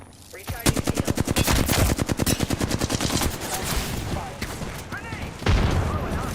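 Rapid automatic gunfire in the game Apex Legends, a loud close burst of evenly spaced shots rattling for several seconds, then scattered heavier blasts, with a voice speaking underneath.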